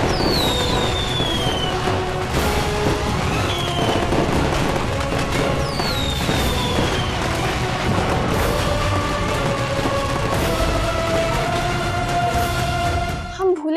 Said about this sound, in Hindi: पटाखे भी चल रहे हैं